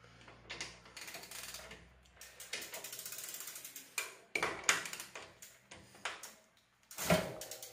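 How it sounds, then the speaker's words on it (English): Ratcheting clicks come from a tool unscrewing the interlocking screw on a bicycle crank. The clicks are close and fairly quiet, arriving in irregular bursts with short pauses between turns. "So let's first remove the interlocking screw here."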